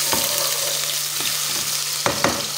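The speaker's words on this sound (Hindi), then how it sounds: "लहसुन अदरक का पेस्ट मैंने इसमें डाल दिया। इसको थोड़ा सा भुनाई करेंगे" Garlic ginger paste sizzles and crackles in hot oil, with a few scraping stirs of a spoon against the pan, close up and without talk.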